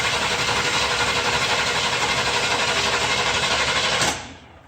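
An old junk engine cranking over on the starter without catching, a loud, steady rapid whirring chug that holds for about four seconds, then cuts off abruptly into quiet.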